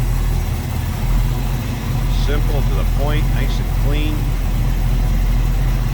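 A 1968 Chevrolet Camaro with Mallory ignition idles with a steady, deep, even rumble close by, while someone talks briefly over the running engine.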